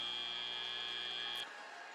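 A loud, sustained end-of-match buzzer blares at a robotics competition, a steady electronic tone lasting about a second and a half before cutting off abruptly, leaving only faint arena background.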